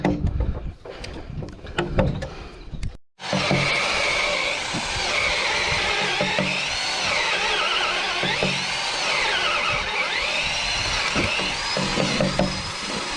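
A power drill whines steadily through wooden roof framing at close range for about ten seconds, its pitch wavering under load, after some handling noises and a brief pause.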